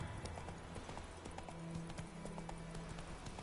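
Horse hooves clip-clop steadily on a bridge in The Witcher 3 on PS5, a close, continuous trotting rhythm under a busy game soundscape.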